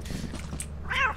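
A cat meows inside a multiplayer video game, a single short, mid-loud call near the end over a low game background hum.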